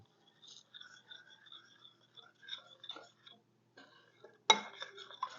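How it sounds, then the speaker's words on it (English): A utensil clinking against a bowl while salted vinegar freezer-meal ingredients are stirred together at home; sparse, quiet taps and scrapes come and go, with a louder cluster of clinks near the end. "And then you mix her up here in a bowl"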